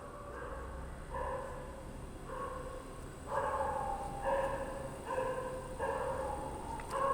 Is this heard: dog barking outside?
yes